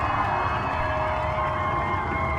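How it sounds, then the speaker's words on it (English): Excited crowd at a dirt track race cheering after a driver's first win of the year, a loud steady roar of voices and shouts lasting throughout. "Pumped up crowd."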